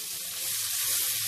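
Sausage pieces for Polish bigos frying in a pan with mushrooms, giving a brief, steady, close hiss of sizzling fat without pauses.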